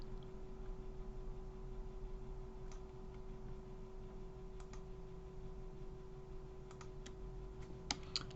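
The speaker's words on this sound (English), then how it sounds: "I'm just going to start clicking and dropping points" A computer mouse is clicked repeatedly while points are placed in 3D modelling software. The clicks are faint and scattered and sit over a quiet, steady hum.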